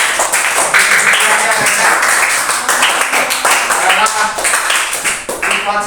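Primary-school children clapping their hands in a classroom after a science lesson on magnets, a loud, uneven burst of clapping mixed with children's voices and chatter throughout.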